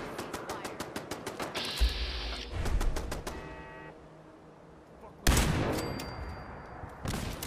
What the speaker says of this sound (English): Get that turret out of the way.